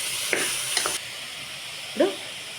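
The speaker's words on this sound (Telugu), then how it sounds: "ఇప్పుడు మొత్తం మిక్స్ చేసుకుంటున్నాం" A tomato meal maker curry with chana dal frying in a pan, heard up close as a low sizzle under a few scraping stirs of the spoon, with a short clatter near the end.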